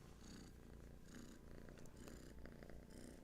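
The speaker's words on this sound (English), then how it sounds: "I'm going to have to let this purring little furball go on her way" A small cat purrs steadily up close, a soft continuous rumble with rhythmic breaths, quiet and alone without talk.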